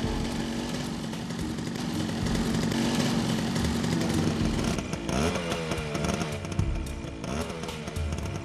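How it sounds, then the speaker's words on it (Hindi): A motorcycle engine drones loudly and close, then its pitch shifts and wavers as it passes, revving unevenly against a busy background near the end. "तभी मैंने एक मोटरसाइकिल देखी।"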